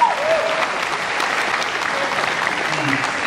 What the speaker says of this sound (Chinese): 来来鼓掌